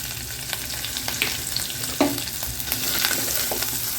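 Mustard seeds, fennel, ginger, garlic, chilli and curry leaves crackle and sizzle in hot oil for roadside-style idli sambar, with steady frying hiss and occasional pops and stirring scrapes throughout.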